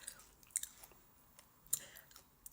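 Crisp bites and chewing of a slightly unripe, crunchy plum, with two sharp crunches standing out among softer close-up mouth sounds in a quiet room.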